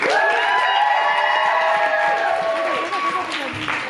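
An audience claps and cheers for Black Sheep Poetry at a live poetry event in a small black-box venue, a loud sustained burst of applause and whoops that slowly tapers off.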